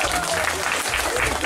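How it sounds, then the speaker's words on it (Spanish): Crowd clapping for the hosts at a village fiesta in Sayultepec, Oaxaca, a brief burst of applause over a busy, noisy outdoor scene with low rumbling background sound. "Un aplauso para los"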